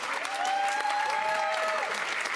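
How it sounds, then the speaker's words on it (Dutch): An audience at a municipal election debate applauds in a steady, full burst of clapping that holds throughout, with a faint whistle-like tone rising above it. "En geef hun vooral net zo'n hard applaus."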